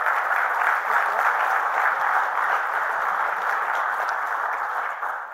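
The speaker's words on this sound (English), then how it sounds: "Let's give Joe and Ann a round of applause." An audience at a safety conference gives presenters a steady, full round of applause, dense and sustained before fading slightly at the end.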